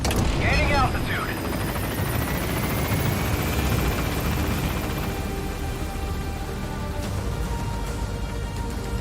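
Helicopter climbing away in Metal Gear Solid V: The Phantom Pain, a loud continuous rotor thrum and engine whine dominating throughout, with a voice speaking over it.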